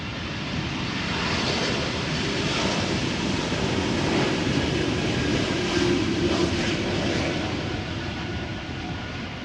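Jet engines of an airliner at Amsterdam Schiphol Airport hum in a quiet, even drone, steady for several seconds.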